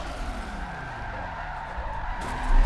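A Nissan Fairlady in a racing video game skids through a handbrake turn, with a sustained tire squeal over engine drone that grows louder as the car spins at the end.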